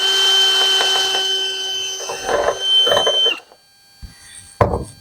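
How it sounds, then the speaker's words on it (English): A deburring tool spun on the end of a bolt cleans up its threads during a Factory Five Racing roadster steering rack build. A steady motor whine with rough scraping bursts runs for about three seconds, stops, then a single short knock follows. "Then I'm going to put a deburring tool on the end of it to clean up the threads."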